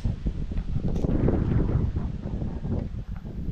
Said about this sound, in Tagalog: Walang init, lakas pa ng hangin.